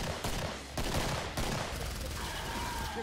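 Pistol fire in the video game Killing Floor sounds as a rapid burst of sharp shots packed close together, fairly faint and slightly distant, over a continuous noisy game backdrop.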